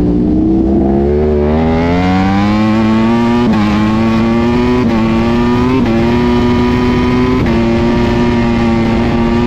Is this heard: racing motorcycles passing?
yes